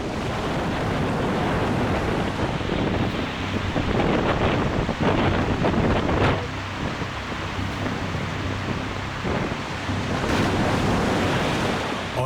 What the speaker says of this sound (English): The bay was actually flooding into the city.